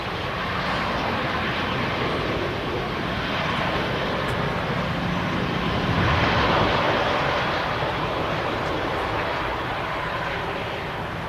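An easyJet airliner just after touchdown at Manchester Airport makes a steady, broadband engine roar, probably reverse thrust, that stays loud and even throughout and swells briefly toward the middle.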